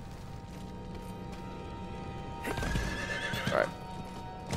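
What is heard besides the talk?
horse neighing in a video game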